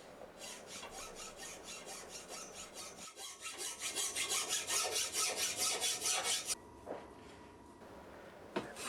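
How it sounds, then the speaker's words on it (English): Hand file rasping steadily along the edge of a hand-forged steel square clamped in a vise, in rhythmic back-and-forth strokes that grow louder midway before the filing stops and a few faint knocks follow. "I just file the other edge the same way"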